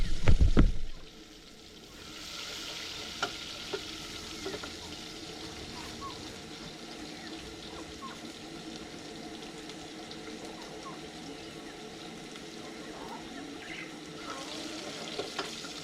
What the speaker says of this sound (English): I have to make sure that my onions have been mixed very well